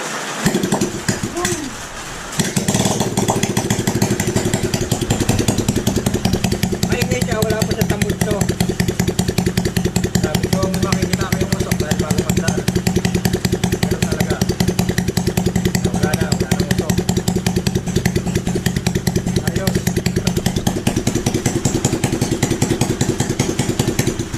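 A Honda Wave motorcycle engine, just top-overhauled, starts and then runs loudly at a steady idle, its rapid putter close by and continuing without pause.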